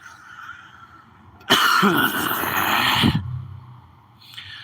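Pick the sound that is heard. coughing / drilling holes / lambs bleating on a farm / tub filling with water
coughing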